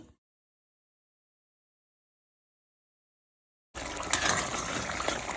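After a long near-silence, water pours suddenly into a pot of frying curry goat meat, a steady close gushing splash with sizzling underneath.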